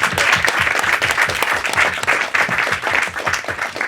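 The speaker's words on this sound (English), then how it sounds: "Give yourselves a round of applause." A live audience at an Edinburgh Fringe podcast recording bursts into loud, sustained applause, many hands clapping densely and close, rolling on for several seconds without anyone talking.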